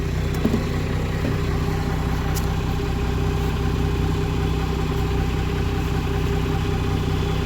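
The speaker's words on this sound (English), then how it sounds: "she fires right up. Now, she does idle a little low, just for now" A 2nd-generation Cummins diesel truck engine idles steadily and a little low, still cold, with a constant low rumbling drone at even loudness throughout and no talking.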